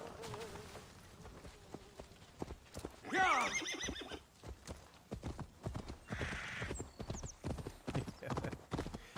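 In Assassin's Creed Valhalla, a horse's hooves clip-clop at a trot while it gives a loud whinny early on and another squealing neigh later, the hoofbeats continuing steadily underneath.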